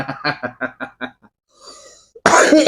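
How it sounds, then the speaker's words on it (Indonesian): A burst of repeated loud coughs, about six in a quick series, followed by a pause, some faint breathy sounds, then a louder noisy outburst. "Jadi batuk."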